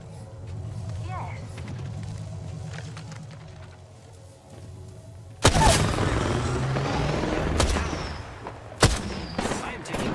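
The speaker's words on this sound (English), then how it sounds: "I am taking fire, friends." Gunfire in the battle royale game Apex Legends, a loud burst of shots that breaks in sharply midway and keeps crackling with a few distinct bangs, after a quieter stretch of game ambience and speech.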